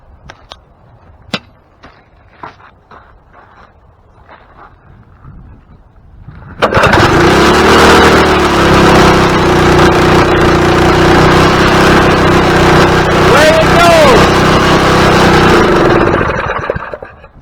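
A tiller/lawn mower engine fires up after a cleaned spark plug: faint clicks and handling noises, then a sudden loud start into a steady close running roar that holds for about ten seconds before winding down.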